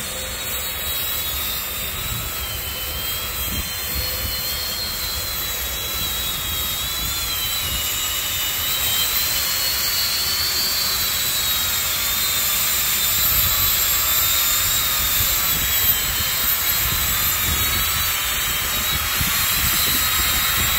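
ArcSpear production prototype aircraft on its first flight, returning for a fully autonomous landing. A steady, loud engine drone holds throughout, swelling slightly as it draws nearer, with no talk.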